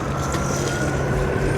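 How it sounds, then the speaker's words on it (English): A steady, dense rumble of distant Brooklyn city traffic heard from a garden, with engines droning continuously and no distinct voices. "You can hear all the noises of the city right now,"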